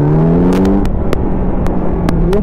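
A Kawasaki Z900 motorcycle engine revs loud and close, its pitch climbing through rising whine with sharp gear-change breaks and wind rushing over the microphone.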